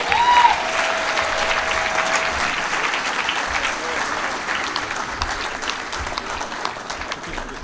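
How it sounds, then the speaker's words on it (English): An awards-ceremony audience at an NHRA North Central Division drag racing banquet applauds a divisional and national Super Gas champion, steady dense clapping throughout with a brief tone near the start and murmured voices underneath. "a round of applause, if you would, please, for your divisional and national Super Gas champion"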